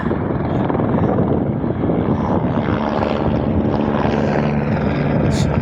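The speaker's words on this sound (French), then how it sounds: "Cabane di Féti ravitaillée par hélicoptère." A helicopter resupplying a mountain hut at about 3600 metres drones steadily with a loud, throbbing rotor chop that stays constant throughout, nearby and unbroken.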